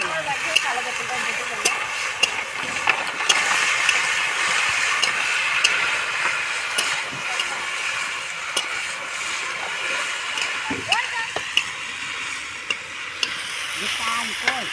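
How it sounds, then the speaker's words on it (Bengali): Radish, potato, eggplant, sweet potato and taro sizzle steadily in hot oil in a pan, a constant close frying hiss with occasional stirring scrapes and clinks throughout. "সবজি খুব ভালো করে ভেজে নিয়েছি"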